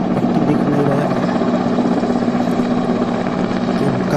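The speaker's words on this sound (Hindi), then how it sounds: "अभी हेलीकॉप्टर आ गया है यहाँ पर" Helicopter at Ayodhya airport, a loud continuous rotor and engine drone with steady throbbing, heard from fairly close outdoors.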